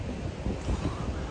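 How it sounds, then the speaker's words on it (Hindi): Strong gusting wind on a stormy day roars steadily across the microphone in a dense, continuous rumble with no break. "आज भी हवा चल रही है."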